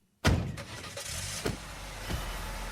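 Car sound effect in a podcast drama about heading out on a frosty night, opening with a sharp thud like a door shutting, then a steady close engine rumble with small knocks.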